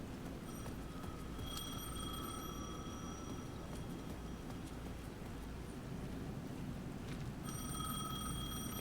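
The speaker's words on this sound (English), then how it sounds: "The payphone at the edge of the plaza was ringing again." A payphone rings at the edge of a plaza in the video game Alan Wake 2, with faint, distant bursts of bright bell-like tone heard twice against a quiet, steady ambient hiss.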